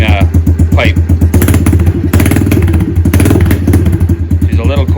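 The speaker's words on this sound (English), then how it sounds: "It's definitely really a throaty sounding pipe." A 2013–2018 Honda CRF110 fitted with a 132cc big bore kit and Piranha exhaust revs up close and loud, with a throaty, choppy idle that rises in repeated blips while still cold.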